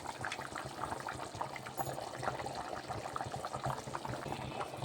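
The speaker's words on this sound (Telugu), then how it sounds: "ఇంకా కొంచెం ఉడకాలి. ఉడుకుతుందండి." Crab curry bubbles steadily in a pot on the stove, a soft, continuous simmering burble with no talk.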